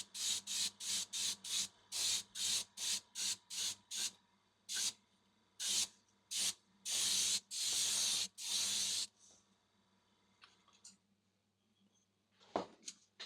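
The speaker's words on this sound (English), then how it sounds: "This is a dusting, not a coat of paint, which means that I can do like this and dust it" Close short bursts of aerosol spray paint dusting a replica lance, about a dozen quick hissing puffs in a fast rhythm, then a few longer sprays, before the hiss stops and quiet handling sounds follow.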